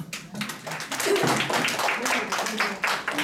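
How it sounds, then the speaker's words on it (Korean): An audience claps for a healing-coordination expert called up at a lecture, scattered hand claps building into steady applause over a speaker's voice at moderate distance. "박수 한번 쳐주세요"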